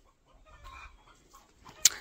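Farmyard chickens give a few soft, scattered clucks at close range, ending in one sharp louder squawk near the end; no one speaks.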